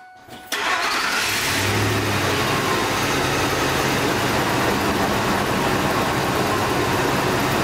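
A 2002 Ford F-150 with the 4.6 liter V8 cranks and fires up, then settles into a steady, loud idle that runs on alone with no talking.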